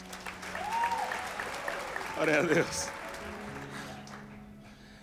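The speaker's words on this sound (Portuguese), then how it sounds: "Vamos aplaudir Rodrigo Augusto" An audience at a church conference applauds a man being honoured, a broad wash of clapping rising and then fading, while a voice calls out over it.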